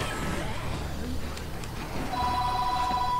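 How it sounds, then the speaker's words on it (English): In the Dead Rising 3 video game, a phone rings with a bright electronic trill that starts near the end amid game noise and someone talking. "my phone's going off"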